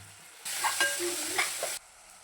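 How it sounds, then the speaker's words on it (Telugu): Something frying in a pan after turmeric goes in, a burst of sizzling with scraping stirring strokes that lasts over a second and then cuts off to quiet. "ఇక్కడైతే ఇక మంచిగా ఫ్రై ఇవ్వాలి. మంచి గోల్డ్ కలర్ రావాలి."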